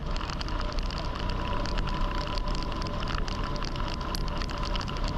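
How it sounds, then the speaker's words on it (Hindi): Raindrops patter steadily on a GoPro camera while riding through a tree tunnel on a rainy mountain route near Manali, a dense continuous crackling wash that fills the whole stretch with no voices. "गोप्रो पे बारिश की बूंदें पड़ रही होंगी, I am very much sure."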